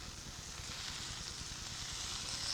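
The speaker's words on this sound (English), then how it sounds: "lay those steak strips right there on the grill and hear that sizzle" Steak strips sizzle on a George Foreman electric grill, a steady hissing crackle with faint low rumbling underneath, fairly quiet and continuous with no talking.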